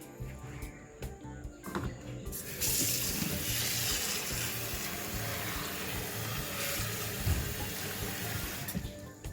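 Water runs from a tap into a cooking pot, a loud, steady splashing stream that starts after a few seconds of clatter and keeps pouring close by.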